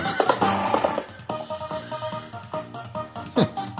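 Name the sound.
horse neighing effect in Lightning Cash slot machine game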